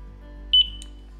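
A single short electronic beep from a barcode scanner, clear and fairly loud, with a faint higher chirp just after, over a quiet background hum.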